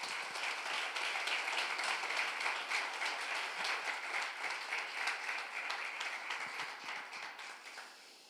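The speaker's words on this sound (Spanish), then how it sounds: "Den un aplauso al Señor." A church congregation breaks into sustained applause, dense and steady clapping filling the room at close range before tapering slightly at the end.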